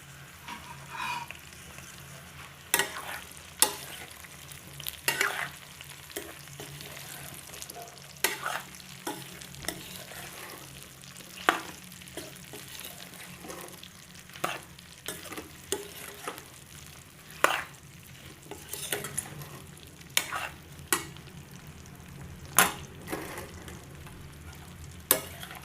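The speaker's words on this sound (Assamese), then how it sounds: "বগৰীখিনি ঢালি এতিয়া ধুনীয়াকৈ লৰাই দিম।" Jujube berries stirred with mustard seed in a pan for a pickle, a steady low sizzle broken by repeated sharp scraping knocks of the spoon at irregular intervals, close up with no talking.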